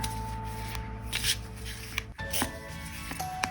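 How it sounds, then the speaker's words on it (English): Cards being shuffled and riffled, a soft papery rustle with a couple of sharper flicks, close up and moderately quiet. "let's give it a good shuffle"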